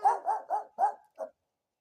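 A dog named Piper barks four times in a quick, steady run, then gives one shorter bark after a brief pause. The barks are loud and close, with no talk over them.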